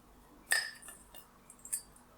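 Metal tea strainer holding spices set onto a saucepan for oat soup with prunes, a bright close clink followed by softer scraping and a second lighter tap in a quiet kitchen.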